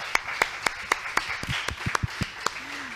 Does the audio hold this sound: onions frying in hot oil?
no